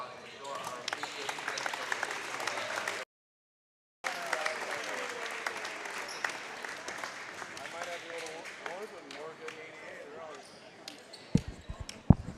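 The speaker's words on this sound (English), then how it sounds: "let's give them a round of applause" A crowd in a high school gym at a varsity men's basketball game, Saint Ansgar at Central Springs, applauds the game officials with a dense, sustained wash of clapping that briefly cuts out, while talk carries on over it.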